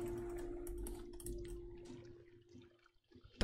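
Ocean waves in the video game Raft: soft, close lapping and dripping water sounds that gradually fade to near quiet, then a sudden brief splash at the very end.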